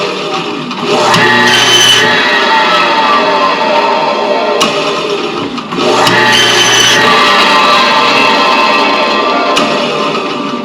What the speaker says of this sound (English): Now these are the first cuts of the day, so I'm going to have to make sure my bandsaw is tuned up just nice.